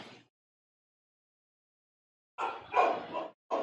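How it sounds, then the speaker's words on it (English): A dog barks in two short bursts, a faint yelp, then a pause, followed by a cluster of muffled barks and another starting at the end. "my dog is barking now"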